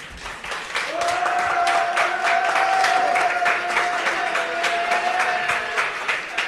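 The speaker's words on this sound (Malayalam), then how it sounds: "ഒരു കൈയടി കൊടുക്കുക" Loud, sustained applause from a stand-up comedy audience, dense clapping that swells and holds for several seconds with a faint tonal hum running beneath it.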